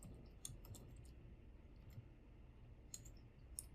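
Faint, sparse key clicks from typing on a computer keyboard, a few soft taps spread irregularly across a quiet room.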